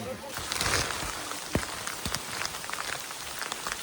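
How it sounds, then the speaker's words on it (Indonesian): Light drizzle falling on a hiking trail on Mount Merbabu, between trail posts 2 and 3, a soft steady patter of raindrops with a few louder close drops, fairly faint overall. "Hujan guys. Dari pos 2 menuju pos 3. Hujan gerimis."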